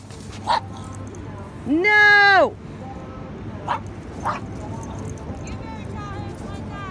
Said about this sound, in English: Look at that beagle.